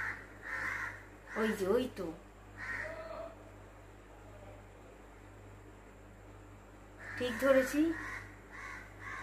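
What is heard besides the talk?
crow cawing at night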